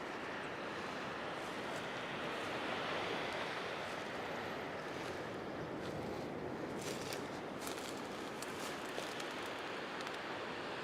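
Atlantic surf breaks on Praia de Lourido, a Galician beach at Muxía on the Costa da Morte, as a steady, broad roar of waves that fills the whole stretch, with light wind buffeting and no voices.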